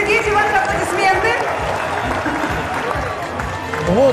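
Audience applause at an event, a busy mix of clapping and crowd noise with voices mixed in throughout, fairly loud and close.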